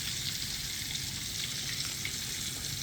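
Kentucky-style fried chicken sizzling steadily in hot oil, a dense, continuous crackling hiss that stays even and close throughout with no voices over it.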